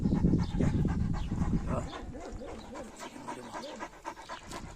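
An Anatolian Shepherd dog pants close by in quick, rhythmic breaths, loud at first and then softer, with a few small whimpers mixed in.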